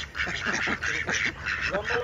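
Ducks kept around a container where lotus seedlings are being planted quack in a string of close, rapid, nasal bursts that repeat steadily throughout.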